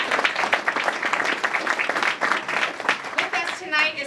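Audience applause fills an outdoor hospice tree-lighting ceremony marking the hospice's 40th anniversary. The crowd claps densely and steadily at close range for about four seconds.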